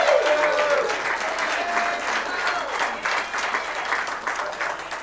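Sustained applause from a church congregation during a Sunday service, dense and steady for the full stretch with a few faint voices mixed into the crowd.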